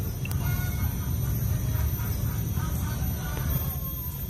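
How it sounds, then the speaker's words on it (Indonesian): Roosters crowing among a flock, faint bird calls rising over a constant low rumble of outdoor noise. "Ayamnya berkokok semua, takut"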